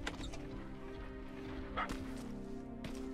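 A puppy in the Terminator: Resistance video game gives a few short barks and yips over a low, humming game soundtrack.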